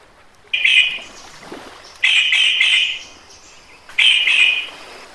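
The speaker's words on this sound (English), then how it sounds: "Ricky heard a beautiful bird call in the distance" Three bright whistled bird calls in the Galápagos Islands, each about a second long, spaced evenly apart with quiet gaps between; clear and somewhat distant, no voices.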